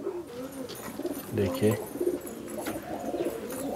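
High-flying Giribaj and Madrasi pigeons cooing in a loft, low throaty coos rising in a short cluster near the middle, heard close under someone speaking.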